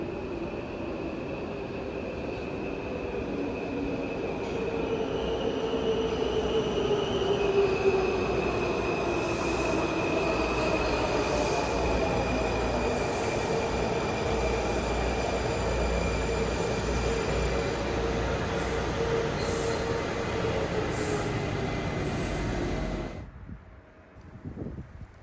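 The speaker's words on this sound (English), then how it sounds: "Arriving here is a Blue Line train headed to Largo Town Center with a 2000 series train." A Washington Metro Blue Line 2000 series train arrives at a station, rumbling steadily with a sustained high wheel squeal for most of the run before it stops and the sound abruptly drops away.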